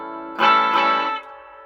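An Oscar Schmidt OE30 electric guitar through its GFS Alnico II Classic neck pickup, tones and volume full up, rings out one loud strummed chord that sustains for nearly a second, then decays into a softer lingering ring.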